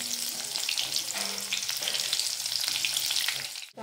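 Stuffed bitter gourds (bharwa karela) frying in hot oil with a little asafoetida, a dense, continuous close-up crackle and spatter with scattered pops, a brief knock near the end and no voices.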